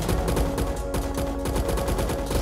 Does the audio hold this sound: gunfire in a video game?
yes